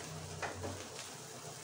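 Rice frying in a pan for Bengali basanti pulao gives a soft, steady sizzle with a few brief stirring scrapes, close but faint.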